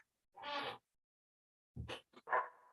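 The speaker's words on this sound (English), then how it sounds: "Sorry, the noise is my dog." A pet dog whimpering and whining near a microphone indoors: a drawn-out whine, then a pause, then a few shorter whimpers and a final whine, faint and close with no talking.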